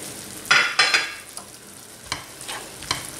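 A spoon stirs a vegetarian mixture with ginger and soy-based tofu in a hot pan, giving a few sharp scraping strokes over a soft background sizzle, close by, with short pauses between stirs and no talking.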